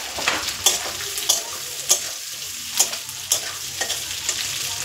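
Chopped onion, red bell pepper and yellow capsicum sauté in a hot pan over a high flame, giving a steady sizzle broken by repeated sharp clacks and scrapes of stirring, close and fairly loud.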